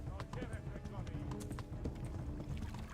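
Horse hooves clip-clop at a steady riding pace in the medieval video game Kingdom Come: Deliverance, with someone talking over the continuous hoofbeats.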